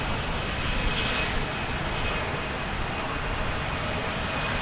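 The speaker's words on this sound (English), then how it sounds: "That was Flight 941, American Airlines from Monterrey in Mexico, an Airbus A319" An American Airlines Airbus A319 at Dallas Fort Worth airport gives a constant, fairly loud jet engine roar, broad and steady throughout with no one speaking.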